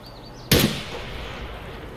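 A single sharp gunshot in the video game Escape from Tarkov cracks loudly, then a long fading echo rolls out behind it.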